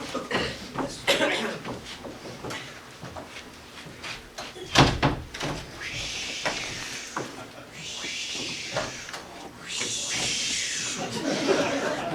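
A door bangs open with a sharp knock and thud among scattered clatter, followed by bursts of hissing noise, with people talking and laughing over it.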